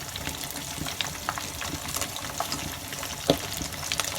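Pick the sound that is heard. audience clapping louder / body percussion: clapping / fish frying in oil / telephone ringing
fish frying in oil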